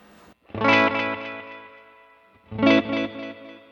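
Electric guitar through a Universal Audio pedal on its second sound setting, two strummed chords each ringing out with a shimmering, chorus-like decay, close and clear with no voices.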